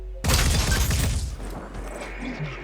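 Gunfire in the video game Phoenix Point: a sudden loud crackling burst of shots with deep low-end rumble, fading after about a second into a dull tail.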